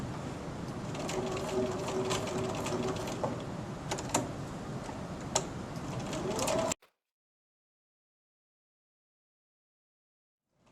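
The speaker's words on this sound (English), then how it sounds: "So I'm going to sew to the edge, pivot, and go around all 4 sides at 1/8 of an inch." A sewing machine stitches Velcro around all four edges of a fabric cord keeper, an eighth of an inch in, pivoting at the corners. The steady, close mechanical whir with small ticks runs for about seven seconds, then cuts to silence.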